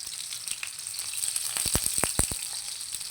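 Sliced onion sizzles in hot oil for a shrimp and cauliflower stir-fry. The bright, crackling hiss is close and loud, with a burst of sharp pops and spatters midway.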